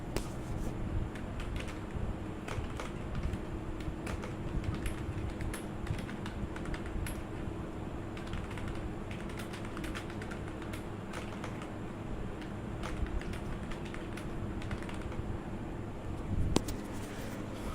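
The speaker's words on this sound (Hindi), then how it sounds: "तो मैं ऐसे यहाँ पे एक सेंटेंस लिख देता हूँ" Steady stream of keystrokes on a computer keyboard as a sentence is typed into an MS Word document, close and continuous for the whole stretch with no talking.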